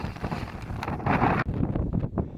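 Strong wind on a knife-edge mountain ridge on Ben Nevis, roaring and buffeting hard against the microphone in continuous loud gusts.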